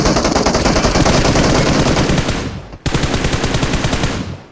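Loud, rapid automatic gunfire in the video game PUBG Mobile rattles in continuous bursts, with a brief cut-off before the firing resumes.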